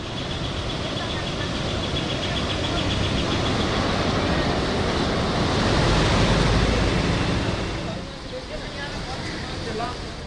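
Flood water surging through homes in Nepal, a dense, continuous roar of churning waves that swells and eases slightly, loud and close, with no clear voices.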